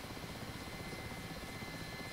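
Simulated Mi-8 helicopter in DCS taxiing on the ground, a steady, dense rotor and engine roar that holds evenly and loud throughout with no talk.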